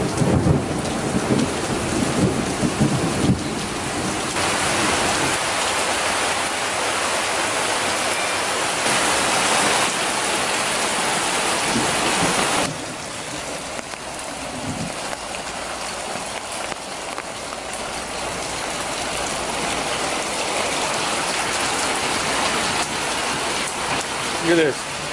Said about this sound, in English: there was some real crackers of thunder over the house